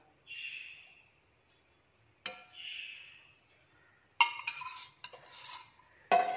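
Spoon stirring gelatin into an eggless coffee pudding mixture in a bowl, heard as a few scattered scrapes and clinks between quiet pauses, with faint chirping bird calls in the background.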